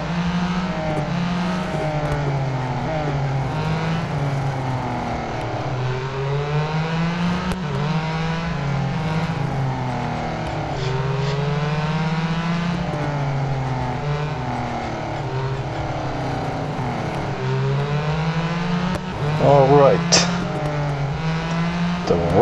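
A Renault race car in Real Racing 3 holds a loud, close engine note that rises and falls in repeated waves through gear shifts, with a rival car briefly whooshing past near the end.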